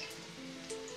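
Mustard seeds spluttering in hot oil with cloves and garlic for masala bhat, a steady faint crackling hiss with scattered small pops, no talking.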